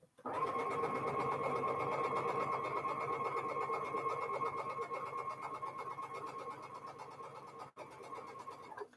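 A sewing machine stitching quilt triangles runs in a fast, steady mechanical whir with a rapid needle rhythm for most of the clip, slowing slightly before a brief pause and restart.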